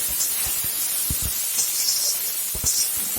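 Garlic cloves and fresh garlic greens fry in hot oil in a pan for lentil dal, giving a steady close hiss with scattered soft pops and knocks, no voices.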